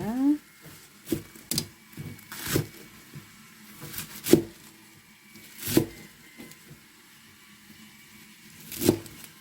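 A knife chops dandelion greens and chives on a cutting board for a seasoned side dish, giving a handful of sharp, separate thuds at uneven intervals over a quiet background.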